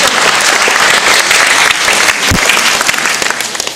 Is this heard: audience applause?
yes